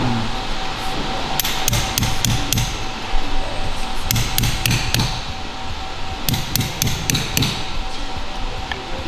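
A hammer strikes a brake pad pin in quick clustered bursts of sharp metallic taps separated by short pauses, close and loud over a noisy motor festival crowd.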